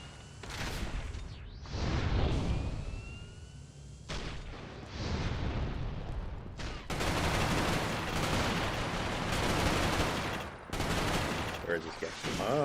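Gunfire booms and crackles in the PlayStation 3 multiplayer game Resistance: Fall of Man, with repeated heavy shotgun-like blasts and bursts of rapid fire across a busy battle, with a voice briefly heard.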